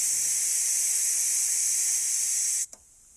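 Steady, loud hiss of air escaping from a leaking air compressor, running continuously for over two seconds before cutting off abruptly, followed by a single small click and near silence.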